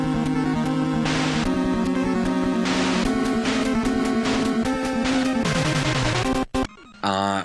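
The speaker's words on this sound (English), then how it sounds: "The boss theme sounds like this." Boss theme music from a 1980s video game plays loud and continuous, a driving chiptune-style loop of repeating bass notes and bright melodic stabs that ends with a brief dropout and a short warbling flourish.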